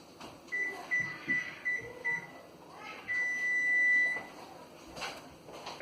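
An oven being set to preheat to 375 degrees gives a quick run of short, clear electronic beeps, then one longer sustained tone, close and distinct over quiet kitchen background.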